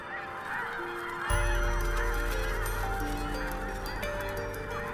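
A huge migratory flock of red-breasted geese in Balkan wetlands breaks into dense, continuous honking. A low rushing swell of wingbeats rises sharply after a quieter opening.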